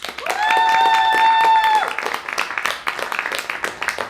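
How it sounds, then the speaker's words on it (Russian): A studio audience at a television talk show applauds, a thick wash of clapping heard with a sustained tone early on and voices throughout. "поаплодируйте, пожалуйста"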